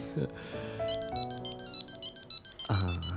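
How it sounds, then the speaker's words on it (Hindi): A telephone rings in a Hindi sitcom household scene, a repeating electronic ringtone pulsing in short regular bursts, loud and close, with a voice speaking over its opening and end. "मॉम, एक पेशेंट का फोन है।"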